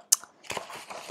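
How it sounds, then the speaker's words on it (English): A dog crunches dry kibble close by: one sharp crisp bite followed by a few softer chewing crunches in quick succession. "That crunching noise you hear, that's Bella."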